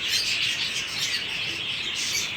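Small pet lovebirds in a cage give steady high-pitched chirps and twitters, a dense continuous chatter close by, with no talking.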